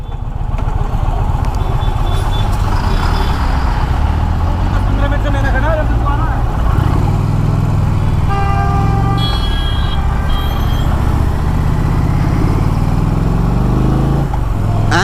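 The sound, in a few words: Indian Challenger Dark Horse motorcycle cruising at 100 km/h, 6th gear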